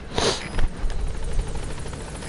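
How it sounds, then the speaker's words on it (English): A helicopter in Metal Gear Solid V arrives for a pickup with a steady rotor chop and whooshing wash, loud and close, holding a continuous pulsing rumble throughout. "So let's go back to helicopter, pick up."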